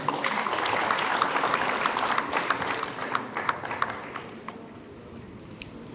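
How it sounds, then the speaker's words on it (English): Conference audience applauding a foreign affairs representative, a loud wash of clapping that gradually thins out, leaving scattered individual claps toward the end. "A round of applause for him, please."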